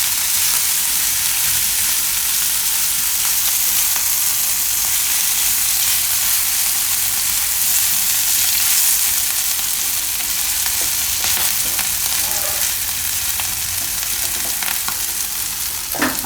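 A Raja Rani paratha cooks in a hot pan, a continuous broad frying sizzle with occasional faint crackles, steady and close for the whole stretch, without any talk.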